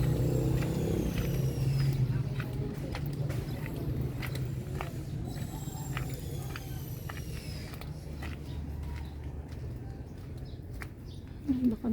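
A motorized tricycle passes along a narrow rural road lined with banana plants, its engine droning steadily and fairly loud throughout, with faint birdsong and other outdoor noise in the background.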